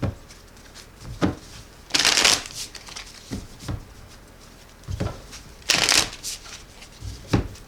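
A deck of thick tarot cards is shuffled up close, giving repeated sharp riffling bursts separated by softer taps and handling sounds, with two especially loud, bright flurries.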